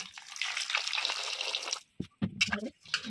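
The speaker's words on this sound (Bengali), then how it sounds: "জল দিয়ে ভালো করে আমটাকে ধুয়ে নেব" Water pours from a tap over a raw green mango for about two seconds, a steady splashing rush, then cuts off into a few brief wet handling sounds.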